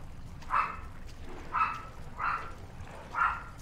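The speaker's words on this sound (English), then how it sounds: "And I'm gonna continue to apologize for the barking dog." A dog barks four times in a steady, evenly spaced rhythm. The barks are mid-loud and a little distant, with no speech over them.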